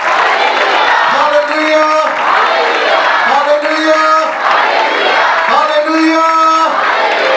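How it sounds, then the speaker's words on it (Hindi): A church congregation at an Urdu-language Sunday sermon cheers and claps in a steady, loud crowd roar, while a voice chants an exclamation of praise over it again and again. "खुदा के कलाम के लिए जोरदार तालियां और जोरदार और जोरदार तालियां चाहते हैं।"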